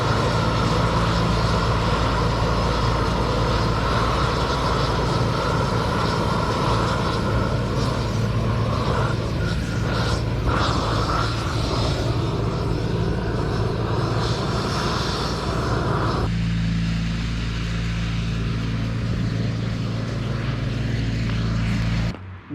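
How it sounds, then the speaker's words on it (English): Bravex propane torch roars loudly and continuously while burning kindling, a steady forceful jet of flame that cuts to a quieter rumble near the end before stopping. "Propane torch also makes for a good fire starter."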